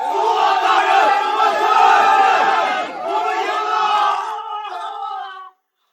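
A huge crowd cheers and roars in unison after a battlefield victory in a dramatic fantasy scene. The massed shouting is loud and sustained at first, then thins into scattered voices and cuts off abruptly.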